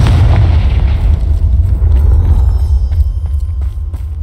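Hogwarts Legacy's Confringo blasting spell sets off a loud, deep explosion, with a thick rumbling boom that rolls on and stays heavy all the way through.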